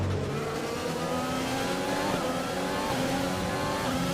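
A Formula 1 race car in F1 2020 rounds the final corner at the Bahrain Grand Prix, its engine revving loud and steady with rising and falling pitch throughout, close and continuous, with no talk over it.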